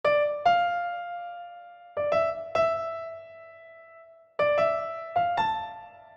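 Piano playing the melody of a jazz standard straight as written, a few sparse struck notes and chords that ring and decay in slow phrases, clear and close with no talking.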